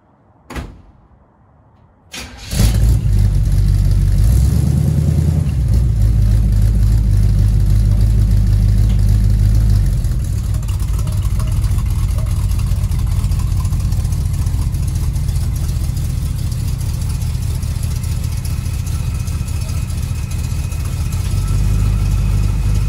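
A 1936 Chevy Coupe being driven off ramps: a door thuds shut after a quiet start, then the engine starts with a loud roar and idles steadily and close for the remaining twenty seconds.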